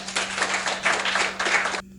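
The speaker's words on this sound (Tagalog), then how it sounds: "Bigyan ninyo ang inyong sarili ng isang malakas na palakpak." Loud group applause, dense clapping in bursts that swell and ease for nearly two seconds before stopping abruptly, with a low steady hum underneath.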